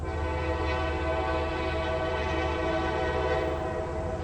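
A heavy stone freight train labors up a 0.5% grade after a speed restriction, its diesel engines droning with steady harmonic tones and a horn-like tonal layer, loud and continuous throughout with no talking.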